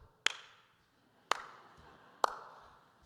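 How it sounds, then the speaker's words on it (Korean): Three separate sharp claps, spaced about a second apart and fairly faint, with no voices, from the congregation at a Sunday worship service at Gumi Gangdong Church. "여러분, 박수 치는 거 보니까"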